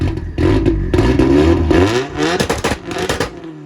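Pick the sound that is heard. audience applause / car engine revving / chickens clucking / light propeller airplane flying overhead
car engine revving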